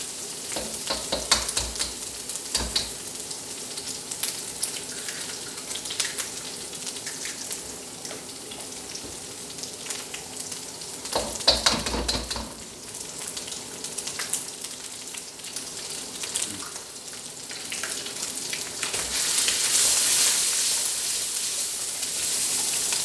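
Eggs go into a hot wok for special fried rice and fry with a steady, spitting sizzle, broken by scraping stir strokes and occasional louder bursts, close up and continuous.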